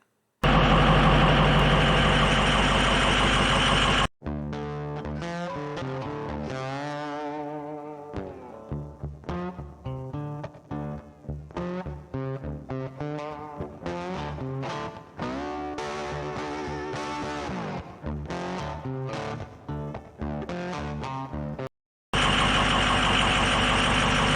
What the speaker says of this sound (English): let's drive to the range for match day